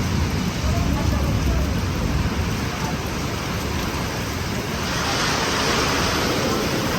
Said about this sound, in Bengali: সীতাকুণ্ড অনেক তুফান চলতেছে, অতিরিক্ত বৃষ্টি, অতিরিক্ত তুফান সীতাকুণ্ড